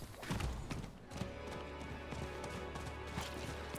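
Horse galloping in the video game Diablo IV, a steady rapid clip-clop of hooves close by and fairly loud throughout, with no talking.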